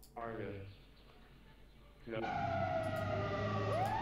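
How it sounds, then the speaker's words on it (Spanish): A siren ringtone with wailing tones, a short burst followed by a louder sustained sweeping wail that continues to the end, sounding electronic and near. "Sirenas que no existen."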